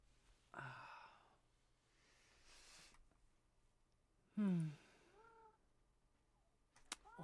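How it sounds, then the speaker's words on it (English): Sherlock the cat meows indoors because she wants to go outside: a few short, quiet, plaintive cries spaced apart, with near-silence between them. "Oh, I hear you, kitty."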